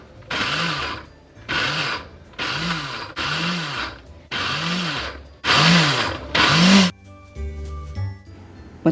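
An electric chopper whirs in seven short, loud bursts with brief pauses between them, finely chopping cabbage, then a quieter clatter follows.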